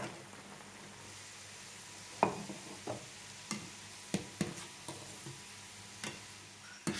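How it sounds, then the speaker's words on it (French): French fries frying in hot oil in a pan, gently stirred, with a steady low sizzle under scattered sharp clicks and scrapes of the utensil against the pan, close and fairly quiet. "de remuer les frites délicatement pour pas qu'elles accrochent au fond"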